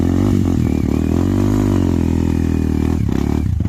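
A motorcycle engine revved with the throttle held open, a loud, close, sustained buzzing roar that holds steady and then drops away near the end.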